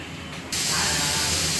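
A kitchen mixer grinder switches on and runs in a steady loud whir, grinding roasted onion, coconut, ginger, garlic and coriander into a fine paste; a softer hum comes just before the motor kicks in.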